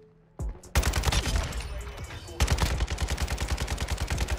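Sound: Kastov 762 rifle gunfire in Modern Warfare 2 video game

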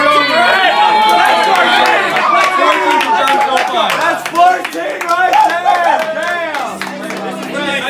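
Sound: supporting crowd clapping and cheering

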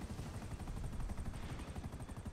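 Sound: helicopter in video game GTA 5

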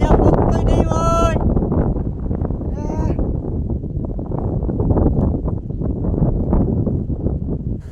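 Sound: strong wind blowing

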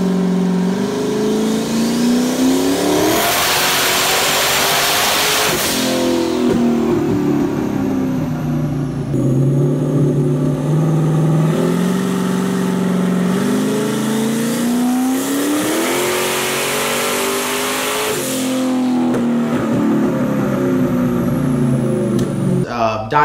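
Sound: engine revving during a dyno pull

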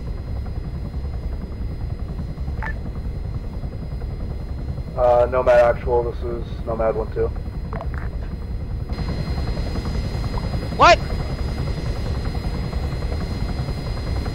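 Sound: Chinook helicopter engine and rotors, from a video game

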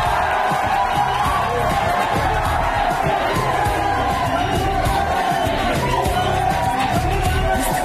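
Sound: audience clapping and cheering

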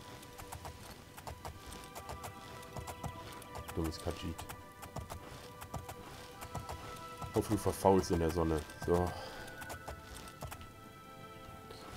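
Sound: horse hooves while riding in video game Oblivion

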